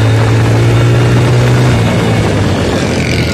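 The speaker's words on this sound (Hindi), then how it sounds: "ऐसे बाइक तेज होती है" A motorbike ridden through Hyderabad streets, its engine droning loudly and continuously with strong wind rush, the pitch holding steady before dipping slightly, no talk over it.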